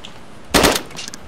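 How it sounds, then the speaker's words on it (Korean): A short burst of gunfire in the video game DayZ, a sharp loud crack with a brief rattling tail, alone without speech. "총소리."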